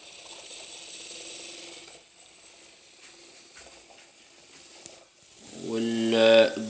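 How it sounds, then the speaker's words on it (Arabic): The small motor of the world's smallest washing machine whirs and ratchets with a faint mechanical clicking, then swells into a louder grinding, gear-like whine near the end. "طبعا ديت حركة الموتور."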